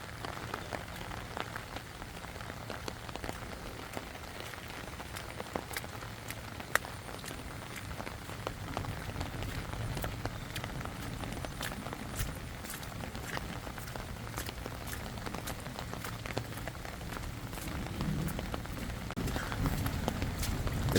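Steady rain falls on a village in Raghunathpur, Sirajganj, a continuous soft patter with scattered sharper drop ticks that keeps going throughout.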